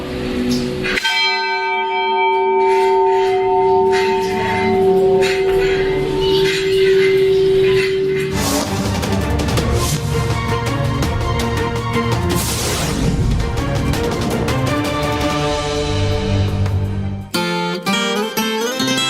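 A hand-rung church bell in the tower of Pouso Alegre cathedral, Brazil, strikes with a loud sustained ringing tone, then a second bell clangs repeatedly in dense overlapping peals close by, with brief talk near the end.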